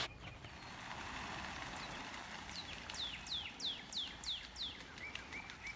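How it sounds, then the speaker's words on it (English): Ducks and other birds at a fishing spot: a run of high, repeated downward-sweeping calls in the middle distance over a steady outdoor hiss, faint and without speech. "there are hundreds of duck and other birds at my fishing spot right now"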